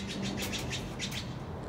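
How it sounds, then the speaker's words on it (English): A bird calls nearby in short, repeated chirping bursts over steady outdoor background noise, with no talking. "When the bird is watching you"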